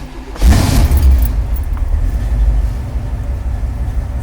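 A Camaro with a new engine and rebuilt carburetor fires up after one pump of the gas, a loud burst at the start that settles into a steady, rumbling idle close by.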